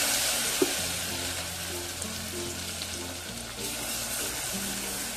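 Onion, garlic and chili fry in hot oil with a steady, dense sizzle, while occasional soft stirring scrapes sound close by under a faint low hum.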